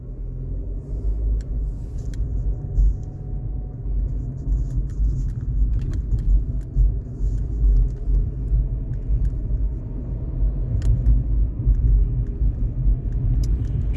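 A car driving up North Avenue from Lake Michigan near downtown Milwaukee, heard from inside as a steady low road rumble and engine drone throughout, with faint light clicks and rattles.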